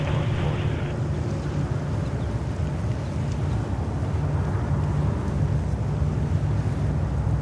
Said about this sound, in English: The ambience from the airport is pretty good.